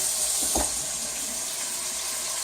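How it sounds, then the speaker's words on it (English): Kitchen tap water runs steadily into a sink during handwashing, a soft continuous hiss with a brief splash near the start, close by and without voices. "Always wash your hands as many times as you can"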